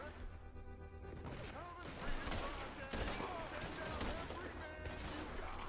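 Dense, continuous video game gunfire rattles throughout, overlapping shots and crashes forming a busy, fairly loud barrage with bits of talk mixed in.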